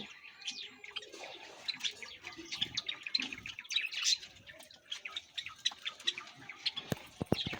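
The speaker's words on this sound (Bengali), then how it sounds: "এটা আমার চাবা পাখির কলোনি" A breeding colony of Java sparrows chirps busily in an aviary, with many overlapping high, sharp tweets and squawks packed close together and a few louder clicks near the end.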